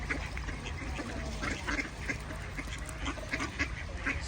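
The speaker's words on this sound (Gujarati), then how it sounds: "અમારા મોરેભાઈ નાખી રહ્યા છે બતકને." Ducks being fed on a winter day in the Czech Republic quack and honk continuously, a busy flock calling close by in overlapping bursts.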